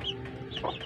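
A hen hidden away on her nest while laying gives a soft, low run of murmuring clucks and faint chirps on a rural farm, quiet and close, with no voices over it.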